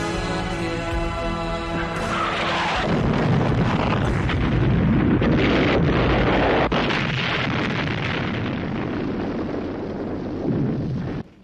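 Film explosions boom and crash one after another, heavy rumbling blasts with bursts and debris layered into a dense, loud roar that continues throughout.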